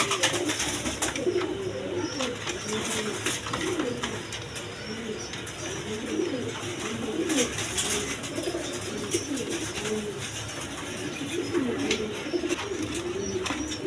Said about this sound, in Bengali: ইম্পোর্টের কবুতর এই পেয়ারটা